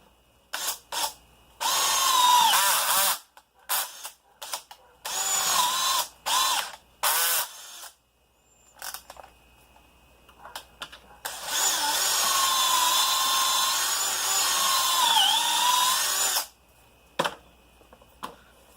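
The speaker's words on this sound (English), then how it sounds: "I'm going to drill some pocket holes into these stringers, connect them into the 4x4s" A power drill bores pocket holes into wooden stringers meant to join 4x4 posts for fire pit planter boxes, coming as several short whining bursts and then one long sustained run, loud and close.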